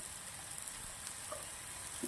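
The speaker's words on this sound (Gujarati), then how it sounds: "સરસ મજાની આપણી ડુંગળી તળાઈ ગઈ છે." Onions frying in a pan for a Rajasthani besan gatta curry give a soft, even sizzle that holds steady throughout, faint and continuous with no talking.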